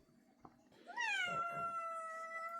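A cat gives one clear, drawn-out meow that rises and then holds steady, fairly close and loud against a quiet background, after a brief faint earlier noise.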